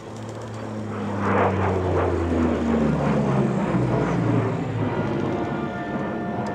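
A Flying Bulls P-38 Lightning twin-engine propeller fighter passes at an air show, its engine drone swelling from a distance to a loud, sustained roar with a falling pitch as it sweeps by, alone without talk.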